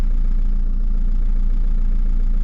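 A VW Passat B5.5 TDI diesel engine idles with a steady, even low rumble and no other sounds over it.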